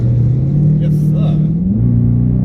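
A Dodge Charger Scat Pack with a Hemi engine rumbles steadily at close range with a deep, even drone, then rises in pitch as the revs climb briefly near the end.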